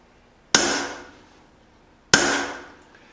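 Two sharp metal-on-metal hammer blows on a Craftsman punch, starting holes in hot steel while forging a leaf spring cleaver; each strike rings out loud and close, then decays, about a second and a half apart.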